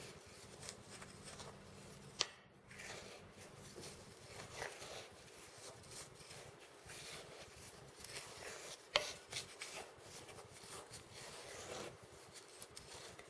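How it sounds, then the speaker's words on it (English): Dry ingredients for a ground almond cheesecake crust, including salt and cinnamon, get stirred in a bowl, giving a faint, steady soft scraping and rubbing with a couple of sharper clicks, close and quiet. "I'm going to give that a good stir just to get all the dry ingredients combined."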